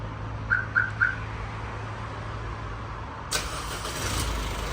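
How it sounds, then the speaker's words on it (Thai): An Isuzu D-Max pickup is started by remote: three quick electronic chirps, then after a pause the engine cranks and settles into a steady idle nearby, with no talking. "อันนี้ก็สตาร์ทรถผ่านรีโมทนะครับ"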